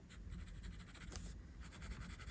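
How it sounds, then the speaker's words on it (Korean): A pencil or coloring tool lightly shades in part of an eye on a drawing, a faint close scratching and rubbing with soft repeated strokes, quiet and alone without talk. "그리고 눈 흰자 윗라인 부분을 이렇게 연하게 색을 칠해줍니다"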